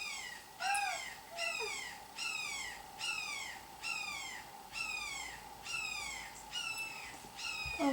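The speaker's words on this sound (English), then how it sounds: "That hawk is just very loud outside." A hawk outside repeats a loud, descending screeching call about a dozen times at a steady rhythm, with a quiet background and no voices.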